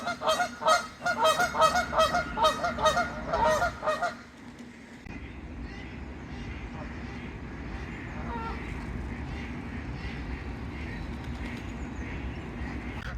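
Several geese honk loudly in a rapid, overlapping series for a few seconds, then fall quiet, leaving faint outdoor background noise.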